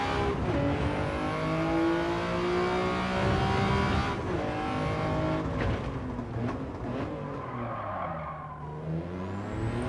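Toyota GR Yaris lapping the Tsukuba circuit in the racing game Gran Turismo 7, engine revving and shifting loudly with tire squeal through corners, continuous and close, no talking.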